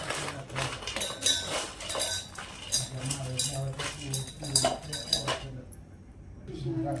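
Small dry pieces of dried mango clatter and clink into a metal mixer bowl in quick bursts, close up, with faint talking underneath, fading to near quiet at the end.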